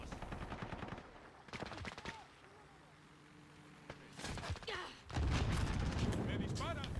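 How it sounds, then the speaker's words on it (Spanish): Modern Warfare gunfire aimed at the player: bursts of rapid automatic shots in two clusters, the later one loud and sustained, with quieter stretches between and voices talking over parts of it. "Me dispara."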